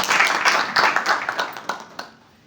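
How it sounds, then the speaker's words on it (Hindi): Clapping from the audience at a Hindi poetry gathering in Haridwar welcomes a poet, in loud bursts that grow sparse and die away to quiet within about two seconds. "भाई अमन शुक्ला का स्वागत कीजिए जोरदार तालियों से।"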